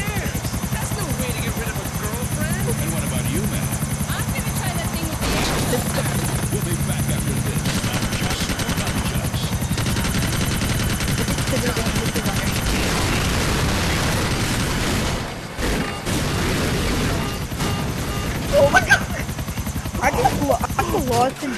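A helicopter in the GTA IV video game drones with a steady rotor roar throughout, joined by bursts of gunfire and a few booms, while players talk excitedly over it.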